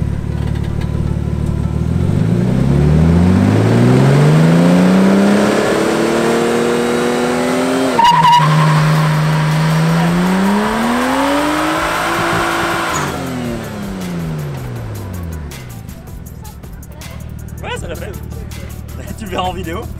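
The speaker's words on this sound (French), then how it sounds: "Une fois qu'elle est en burn, c'est facile." A car doing a static burnout, its engine revving hard with pitch climbing, dipping and climbing again while the tires squeal steadily, loud and close, with people talking over it.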